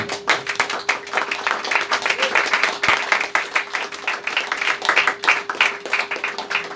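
A church congregation applauding, steady rhythmic clapping from many hands filling the room at close range, with a faint steady tone beneath and a voice speaking briefly.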